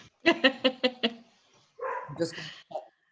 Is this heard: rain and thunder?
no